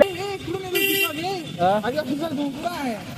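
Street traffic during a protest march in Nashik, with car and bus horns tooting in short bursts close by, mixed with someone talking loudly over the road noise.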